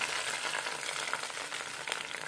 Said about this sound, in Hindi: तो बस फिर इसी में मैं सारा का सारा जो प्याज का तड़का जो है वो डाल दूंगा।